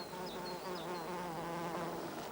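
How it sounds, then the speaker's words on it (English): A bee fly hovers and buzzes at an Israeli orchid, its steady wingbeat drone close and continuous throughout with no talk. "The bee fly probes even though the nectar isn't there."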